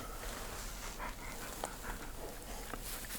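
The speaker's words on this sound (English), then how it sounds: "Got a dog here." A farm dog panting close by, with rapid steady breathing under a constant rushing background noise.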